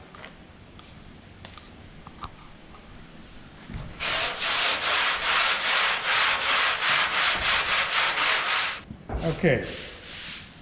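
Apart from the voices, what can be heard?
hand sanding Bondo body filler with 120-grit sanding block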